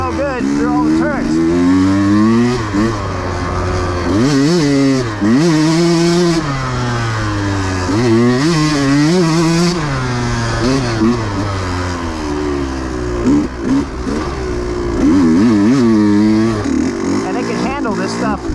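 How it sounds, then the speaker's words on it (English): A 2020 Husqvarna TE150i dirt bike, a small engine on a big bike, revs and bogs while riding over rocks, its wavering engine note rising and falling loudly and close up, with a rider talking throughout. "It's just a small engine on a big bike."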